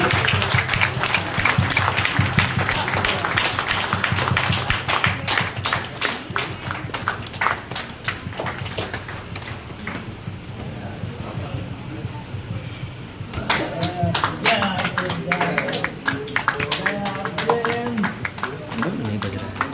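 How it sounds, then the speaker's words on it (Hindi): Dense, sustained applause from a crowd at a celebration function in Makhdumpur, steady and loud for most of the stretch, dipping briefly in the middle before swelling again, with voices and music-like tones mixed in. "एक बार शानदार जोरदार ताली"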